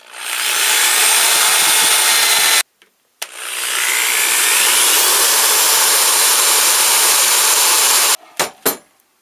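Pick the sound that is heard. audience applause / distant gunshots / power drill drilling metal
power drill drilling metal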